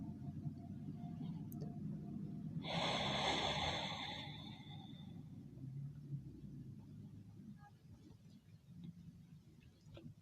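Slow, steady exhale during a guided relaxation exercise, a broad breathy rush lasting about two seconds that swells and fades over a low background rumble, fairly close and soft.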